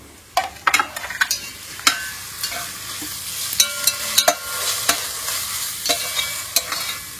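Slit green chillies are added to a pan and stir-fried for a Bangalore-style Meghana biryani, giving a soft continuous sizzle broken by sharp metallic clicks and scrapes of the spoon, close up and with no talk.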